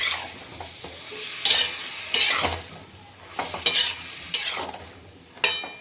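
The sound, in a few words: stirring sponge gourd curry with salt and turmeric in pan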